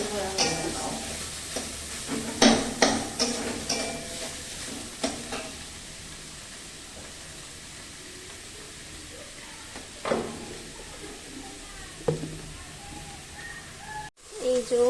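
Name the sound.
greens (shak) frying in a pan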